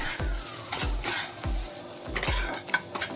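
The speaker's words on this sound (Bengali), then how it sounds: "তেল গরম হয়ে গেছে, এরপরে আমি সয়াবিনগুলোকে ভেজে নেব।" Soybean chunks fry in hot mustard oil in a pan, a steady sizzle broken by repeated scraping stirs of a utensil at a regular rhythm, close up and without talk.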